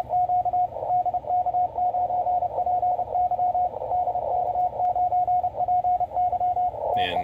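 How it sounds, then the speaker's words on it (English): A CW Morse code signal comes in over a ham radio during the Worked All Europe contest, a steady keyed tone in rapid dits and dahs over faint static hiss. "CW and Morse code, alive and well."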